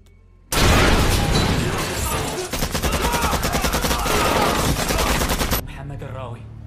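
Sustained burst of gunfire in a film assassination attack scene, loud rapid automatic shots with a dense booming wash that cuts off abruptly, followed by a brief quieter tail.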